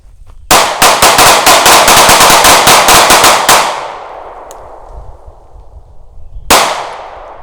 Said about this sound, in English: pop off a couple rounds